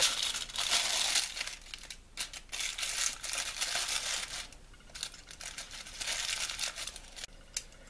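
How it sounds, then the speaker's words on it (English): Hair-coloring foil is laid over a blonde hair section and folded up, giving close, bright crinkling and crumpling that comes in bursts with brief pauses, with no talk over it. "Placing a foil right on top and just folding it up."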